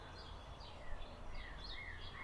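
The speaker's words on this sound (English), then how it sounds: "Do you hear all these birds?" Small birds chirp and trill in an early-spring garden, quiet and somewhat distant, with short high calls repeating over a faint background hush.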